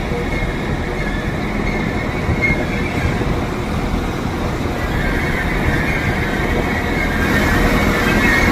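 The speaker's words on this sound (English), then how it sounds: "Blackpool train coming in." A train from Blackpool pulls into Leeds station with a steady, loud rumble and a sustained high squeal of wheels or brakes, continuous from start to finish.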